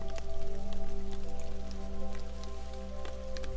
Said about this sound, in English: I hear raindrops.